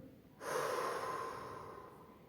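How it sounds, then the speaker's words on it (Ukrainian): A single powerful exhale during a yoga breathing exercise, released after a breath hold with a root lock, surges in sharply and close, then tapers slowly into quiet breathy air. "потужний видих"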